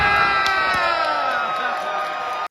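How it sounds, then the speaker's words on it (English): A packed crowd at a live local wrestling match cheers and shouts loudly and continuously, with high children's yells and whoops on top, before cutting off abruptly at the end. "Santino reaches in and pulls out the Cobra, which has the whole crowd going absolutely nuts"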